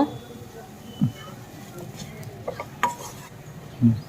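Boiled chicken is added to cooked masala in a pan and stirred. Several distinct clanks of a metal spoon against the pan stand out over a faint sizzle while someone talks.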